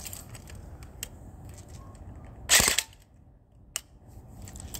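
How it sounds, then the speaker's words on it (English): A Gameface RK74 airsoft rifle is dry fired, giving one sharp, loud mechanical snap midway, with faint clicks and handling noise before and after. "Dry fire, I think."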